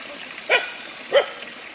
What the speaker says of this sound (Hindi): पहुंच गया अगर कुत्ता लोग, यहाँ पहले ही पहुंच गया, भोक रहा है अभी